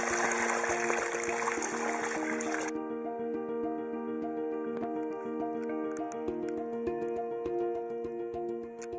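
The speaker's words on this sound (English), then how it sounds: "now we're going to put the water in this soil" Water pours into hard soil in a planting hole, with a loud rushing splash for the first few seconds, then a steadier trickle and dripping that continues close by without talk.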